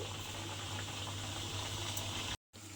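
Khaja pastries frying in hot oil one by one, giving a steady close bubbling sizzle that runs unbroken, with a brief dropout near the end and no voices.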